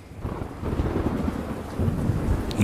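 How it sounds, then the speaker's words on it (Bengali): Deep thunder rumbles low and steady while rain pours down continuously, without any voices. "গড় গড় করে বজ্রের গর্জন এবং ঝুপঝুপ করে বৃষ্টির পতন।"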